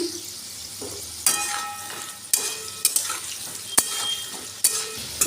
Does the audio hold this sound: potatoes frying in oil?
yes